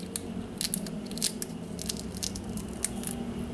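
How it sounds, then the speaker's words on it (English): Fleshy outer calyx of sorrel (rosella) fruit peeled off by hand, giving a run of soft crisp snaps and small tearing crackles at close range, irregular and fairly quiet, with no talking. "here I have a few of the fruits here, and this is basically how you peel them."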